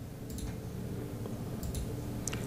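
A few faint computer mouse clicks during a drawing session in Illustrator, soft isolated ticks over a quiet low hum, with no talking.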